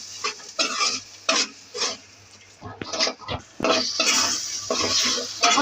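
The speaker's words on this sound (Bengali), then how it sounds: "এখন একটু হলুদের গুঁড়া লবণ দিয়ে দিলাম। এখন এগুলো ভালোভাবে কষাবো।" Turmeric and salt are stirred into spices sautéing in a pan, a spoon scraping and rasping in bursts over a low sizzle, close by, with someone talking between strokes.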